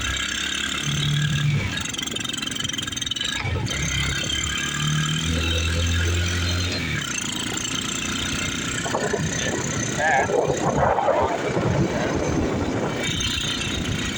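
A 2021 Kayo 150 Storm ATV quad runs steadily up close on half choke, its engine rumbling and shifting pitch as it is geared down from third to second to first.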